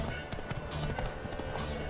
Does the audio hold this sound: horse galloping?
yes